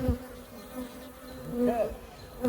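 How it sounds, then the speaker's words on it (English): Bees fly around during a hive inspection, their steady hum close by with one louder buzz passing near. "Not quite so many bees flying around at us in the air."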